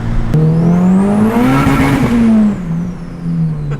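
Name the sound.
tire squeal from turbo B16 Honda Civic hatch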